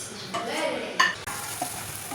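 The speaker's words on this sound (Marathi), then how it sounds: "त्यानंतर हे जे मिक्सरमधून काढलेलं बेटर आहे ते आपण आता तेलामध्ये ॲड करणार आहोत." Blended batter poured from the mixer into hot oil in a pan, a soft sizzle with stirring and a sharp scrape or clink partway through, fairly quiet and close.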